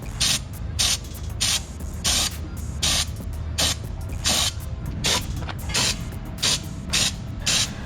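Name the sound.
spray gun spraying bed liner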